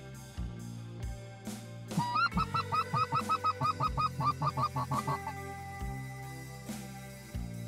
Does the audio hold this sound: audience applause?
no